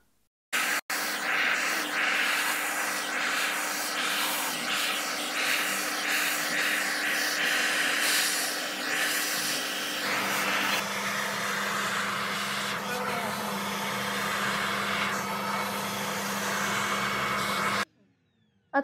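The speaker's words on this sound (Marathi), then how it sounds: "याला पुढे ब्रिसल्स असतात आणि त्याच्या साहाय्याने सगळी जी धूळ असते ती आत सक करून घेतली जाते." A vacuum cleaner fitted with a bristled multipurpose brush cleans a sofa indoors, giving a steady, close whooshing roar with a constant motor hum that runs unbroken for about seventeen seconds before cutting off.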